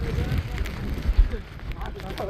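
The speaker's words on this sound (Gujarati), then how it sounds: "પવન પણ ખૂબ જ વધારે છે અહીંયા" Strong wind buffets the microphone in low rumbling gusts on Mount Girnar, loudest around the middle, with faint talk underneath.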